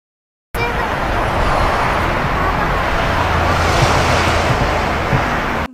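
Car traffic noise in a short online video recording: a brief silent gap, then a loud, steady, broadband roar like passing traffic and wind buffeting the microphone, continuing unbroken to the end with no clear voices.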